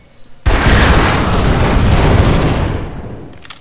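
Rapid gunfire in Half-Life: Source bursts in abruptly and loud, a dense continuous roar of shots lasting about three seconds before tapering off, close and without speech.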